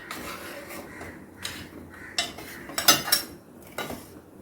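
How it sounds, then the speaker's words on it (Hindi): A spoon stirs dal with garam masala and fresh green coriander in a cooking pot for Gujarati dal dhokli, giving a string of close metallic clinks and scrapes against the pot with short pauses between strokes and no talking. "और इसे अच्छे से मिक्स करेंगे।"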